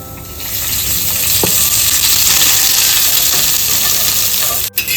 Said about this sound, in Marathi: कांदा भाजून घेऊ नेहमीप्रमाणे थोडंसं तेल टाकायचं